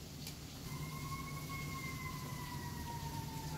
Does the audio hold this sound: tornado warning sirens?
yes